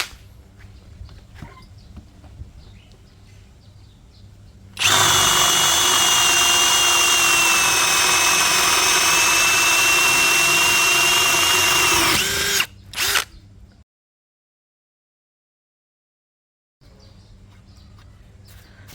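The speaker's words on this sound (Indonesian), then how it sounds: "Pengujian berikutnya saya menggunakan mata bor Forstner Bit 20 mm dan untuk medianya adalah papan mahoni ketebalan kurang lebih 2 cm" A cordless brushless drill set to speed 2 boring a 20 mm Forstner bit into a roughly 2 cm mahogany board, a loud steady high whine for about eight seconds, then a short burst, silence, and faint room noise.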